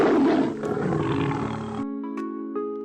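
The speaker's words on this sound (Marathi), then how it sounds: "ई फॉर टायगर टायगर म्हणजे वाघ" A tiger's deep, rough roar sounds loud and close for about two seconds, then gives way to steady, bright musical tones.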